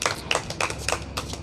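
Enthusiastic applause for a young girl on a live show: a brief, close, scattered patter of hand claps in quick uneven bursts, fairly quiet, with no talk over it.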